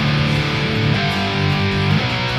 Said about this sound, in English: So I'm just going into a crunch channel, and it sounds like this with no effects on it.